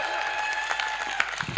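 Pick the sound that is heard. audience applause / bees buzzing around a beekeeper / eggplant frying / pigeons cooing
audience applause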